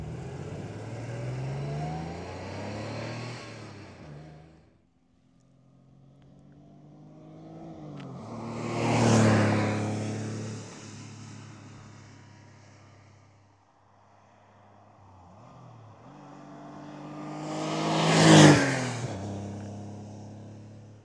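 Porsche 911 Targa 3.2 litre from 1988 with a five-speed gearbox, accelerating in three separate passes, each engine note rising through the gears to a loud peak and then fading, heard from outside with no talk.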